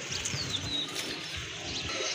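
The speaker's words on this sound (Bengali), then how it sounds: "আরেকটা কবুতর দেখতে পাচ্ছেন, খুবই কিউট, দেখার মতো একটা কবুতর" Pigeons at a pigeon sale give soft coos and a few thin chirps, faint and somewhat distant, over a low murmur of background noise.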